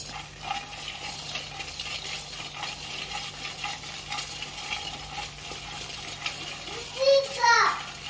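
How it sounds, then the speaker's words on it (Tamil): Makhana (fox nuts) roasting in a pan over a low flame are stirred steadily with soft, faint scraping and rustling. A brief voice-like sound rises near the end. "நல்லா இப்படி சுற்றிக்கிட்டே இருங்க, இல்லைன்னா ஒரு சில இது மட்டும் தீஞ்சிரும்."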